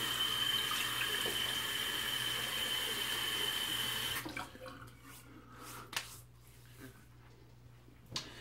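A bathroom tap runs steadily for a few seconds to wet a face during a head shave, then shuts off, leaving a few faint splashes and drips nearby.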